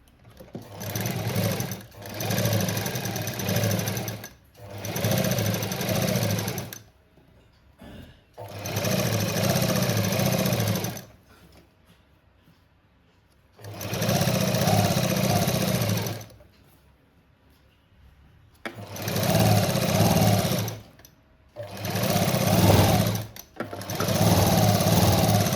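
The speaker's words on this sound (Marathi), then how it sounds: "पहिल्यांदा आपण इथं गळा शिवून घेऊ." A sewing machine stitches the neckline of a boat-neck blouse, running in loud, close bursts of a few seconds each, separated by short pauses while the fabric is repositioned.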